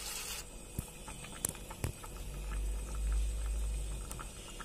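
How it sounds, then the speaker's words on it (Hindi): Hot water poured into chicken cooking in a pan, a bubbling, crackling sizzle with scattered sharp pops and a low rumbling surge in the middle, fairly quiet overall. "आपको जितना पानी चाहिए उतना ही देना, पर गर्म पानी देना।"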